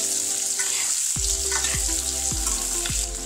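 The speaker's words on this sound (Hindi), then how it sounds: "अब इसको चलाते हुए और हल्का सा सौते होने देना है।" Sliced onions sauté with oil in a pan while being stirred, a steady loud sizzle broken by several rhythmic scraping strokes of a spoon against the pan.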